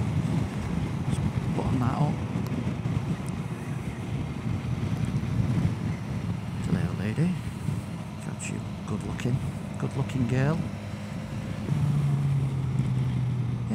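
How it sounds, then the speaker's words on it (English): Motorbike ride on open roads in fine weather, with steady loud wind buffeting the helmet-mounted microphone over a low engine drone throughout; someone talks over it now and then. "I just thought I'd come out for a ride on bike"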